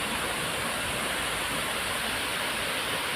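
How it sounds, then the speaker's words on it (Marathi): A waterfall at a dam roars as a steady, dense wash of rushing water, loud and unbroken throughout with no voices. "हा धबधबा असा, आणि खाली पूर्ण पाण्याचा साठा आहे"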